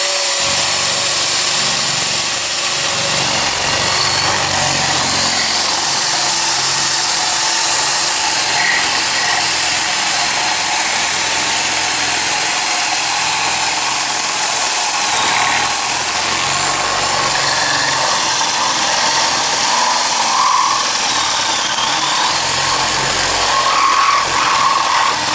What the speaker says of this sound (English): I'm using a 5/8 wood bit, the paddle bit, as you can see.